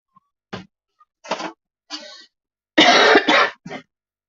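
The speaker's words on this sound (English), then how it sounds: "Sorry for coughing." A person with a cold coughs and clears their throat in several short bursts separated by silence, ending in a louder, longer coughing fit close to the microphone.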